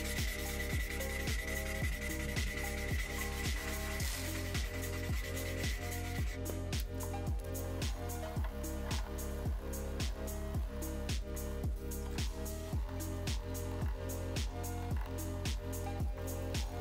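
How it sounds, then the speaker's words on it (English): Rhythmic hand sanding of a knife blade with 500-grit paper, regular back-and-forth rasping strokes at a steady tempo, close and continuous, with no voices. "I hate hand sanding, but I'm already at 500 grit on this side here."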